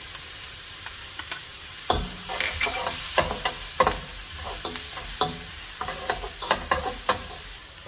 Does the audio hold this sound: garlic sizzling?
yes